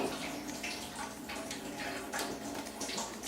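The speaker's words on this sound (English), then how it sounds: "we're going to get all the water out of the hose" Water gushes and splashes steadily as an Aqueon aquarium water changer hose is drained into a sink, a continuous watery rush with small irregular spatters throughout.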